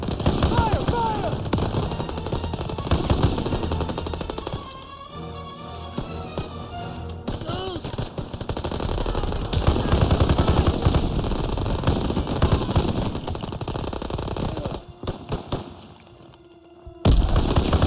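Soldiers fire rapid bursts of gunfire and single shots in the World War II shooter Call of Duty WWII, loud and dense with brief pauses and explosions, while voices shout over it.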